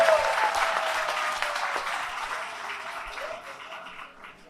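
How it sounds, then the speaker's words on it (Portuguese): An audience at a church café show gives a round of applause, strong at first and gradually fading away, with no speech over the clapping. "uma salva de palmas então, por favor"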